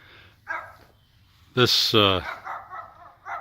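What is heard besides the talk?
small dog barking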